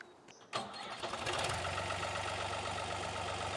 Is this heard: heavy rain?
no